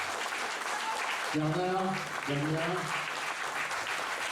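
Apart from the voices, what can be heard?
audience applauding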